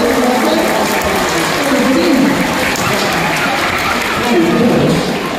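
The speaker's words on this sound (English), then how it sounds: "Big round of applause" Audience applause at a sea lion show, a steady wash of clapping from a crowd that holds evenly throughout and swells slightly near the start and end.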